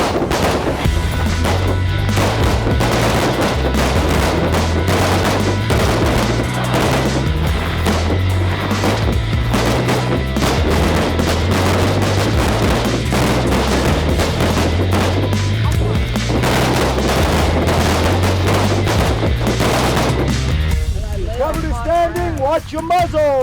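Gunfire at a shooting competition range: dense, continuous volleys of loud shots from many shooters overlapping with a heavy rhythmic music track, while a voice talks over the din.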